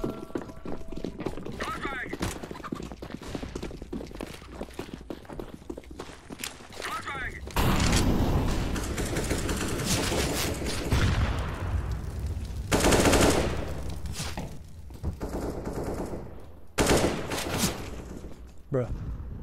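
Gunfire in a first-person shooter video game: rapid automatic bursts and single shots with footsteps and mechanical clicks, under ongoing player chatter.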